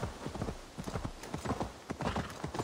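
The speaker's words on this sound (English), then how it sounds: "Oh, this horse likes to jump." Horse hooves clip-clop at a steady trotting rhythm in Assassin's Creed Valhalla, close and fairly loud, a run of repeated thuddy beats with no talk over them.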